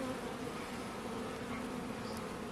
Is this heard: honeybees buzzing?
yes